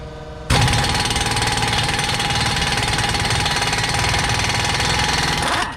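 A large air impact wrench hammers at the front axle nut of a 2011 Nissan Altima, a loud continuous rattling burst lasting several seconds before it stops abruptly.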